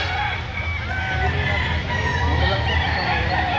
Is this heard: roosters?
yes